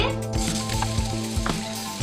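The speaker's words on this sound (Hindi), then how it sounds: "ऑयल के गर्म होने तक हम वेट करेंगे। फिर हम उसमें गार्लिक डाल देंगे" Garlic sizzles steadily in hot oil in a pan, a close, continuous frying hiss with small crackles and a few light stirring scrapes, and no talking.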